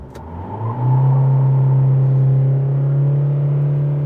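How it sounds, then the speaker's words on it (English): An Isuzu D-Max pickup accelerates hard in reverse, its engine climbing from idle into a loud, sustained, steady drone close to the microphone. "Now, how fast does it go in reverse? Let's find out."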